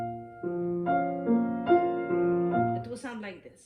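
A piano plays a simple, slow passage from a Chopin Nocturne, a few sustained notes and chords entering one after another at moderate volume before dying away.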